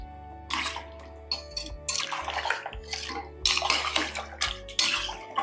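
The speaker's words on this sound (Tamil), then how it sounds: "இதுல 1 கப் அளவுக்கு தண்ணி ஊற்றிக்கலாம்" About a cup of water is poured into a pressure cooker holding mutton curry, a splashing, gurgling stream that starts and stops in short bursts over a steady low kitchen hum.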